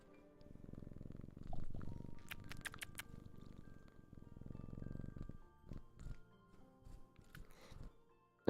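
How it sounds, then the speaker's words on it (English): A cat purrs in rhythmic, low rumbling pulses, close up and soft, fading into scattered quieter rustles and handling noises toward the end. "Do you hear him purring?"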